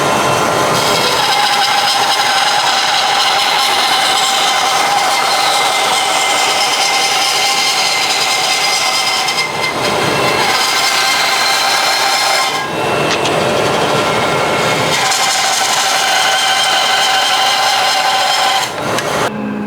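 An Axminster AP2920B bandsaw slices a piece of wood while a dust extractor runs, giving a steady, loud, close whirring hum with a high tonal whine and rasping cutting passes that swell and ease for the whole stretch, without speech.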